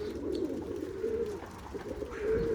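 Pigeons coo outdoors in strong wind, low repeated calls rising and falling over a rough, gusting background roar.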